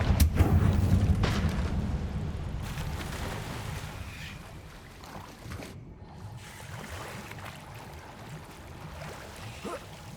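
A Confringo spell blast in Hogwarts Legacy: a loud, booming explosion at the start that rolls into a long, rumbling decay and lingers beneath scattered debris-like crackles.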